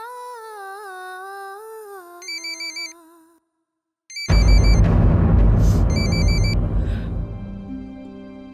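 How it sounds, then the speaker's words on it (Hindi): A mobile phone ringtone plays a melodic tune with a brief beeping pattern, then cuts off before louder, dense dramatic music takes over, set in a domestic drama scene. "किसका फोन है?"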